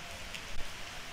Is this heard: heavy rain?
yes